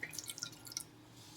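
Strained salt water pouring into a batch of mango pickle, heard as a quiet run of light, uneven drips and trickles over about a second, then a faint liquid wash with no voices.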